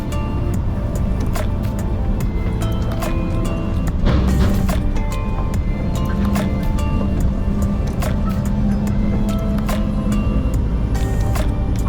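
Inside a Scania truck cab on a wet, windy road in the Scottish Highlands: a constant loud engine and road roar with rain hiss, punctuated by frequent sharp clicks and taps, no voices.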